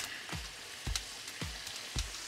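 Chicken wings sizzling and frying in smoking-hot oil in a kazan, a steady crackling hiss with short bursts of popping spatter recurring about every half second to second, heard up close with no talking.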